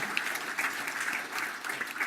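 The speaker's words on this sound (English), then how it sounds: "can I give a last round of applause to our organizers?" A conference audience claps for the organizers, a close, even round of applause from a crowd that holds steady for about two seconds.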